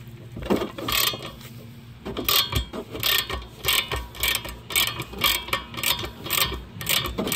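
A ratchet tool loosens the lower rear brake caliper bolt on a Kia Soul, making fast repeated clicking bursts in a steady rhythm close up, with no talking.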